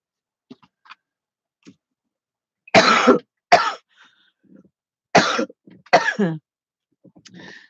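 A woman coughs and clears her throat in several separate loud bursts, with small clicks and rustles in the quiet gaps between them.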